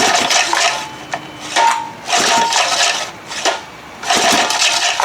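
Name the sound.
pull-starting a 1974 25 hp Johnson outboard motor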